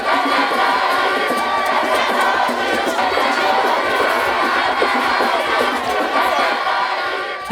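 Large crowd at an outdoor political rally cheering and shouting continuously, a dense, loud roar of many voices with no single speaker standing out.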